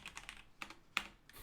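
Typing on a computer keyboard, a loose run of sharp, close keystrokes arriving in small clusters with brief pauses between them, with no talking.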